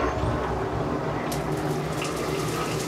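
A newly installed Hibbent shower head runs in waterfall mode, a steady close rush of falling water that continues without a break.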